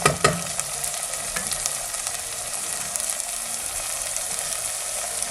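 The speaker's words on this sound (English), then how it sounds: "I'm just going to add the onions now. Just going to give it a mix." Onions hit hot fat in a pan of lamb keema with a couple of sharp clatters, then a dense, even sizzle and frying hiss continues steadily while they are stirred.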